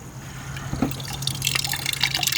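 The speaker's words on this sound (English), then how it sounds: "That is some nasty black water coming out." Dirty black coolant draining from the radiator of a 1999 Ford F-150 into a pan, a steady close trickle with dripping splashes that grows busier as the flow picks up.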